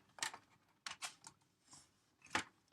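Scissors cutting 12x12 cardstock for handmade cards, giving a few quick, crisp, close snips in small clusters with quiet pauses between and no talking.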